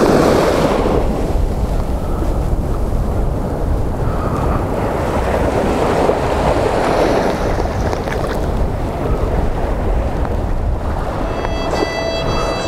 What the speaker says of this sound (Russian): послушаем завораживающий шум волн